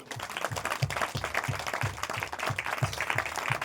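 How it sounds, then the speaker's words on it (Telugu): Audience at a Christmas church service clapping steadily in a dense, continuous round of applause from a crowd, with no break for the full length. "మరొకసారి వారిని అభినందిస్తూ చప్పట్లు కొడదామా?"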